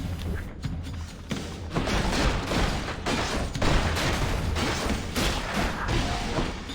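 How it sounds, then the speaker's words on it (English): Bombs exploding in the action video game Hades, a dense, loud barrage of blasts and crashing impacts piling over one another without pause, no voice heard. "Stupid bombs"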